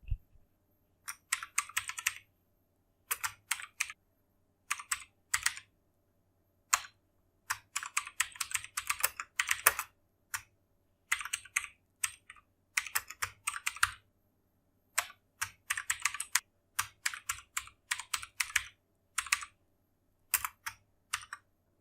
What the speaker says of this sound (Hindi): देखिए मैंने अभी 3 लाइन टाइप किया है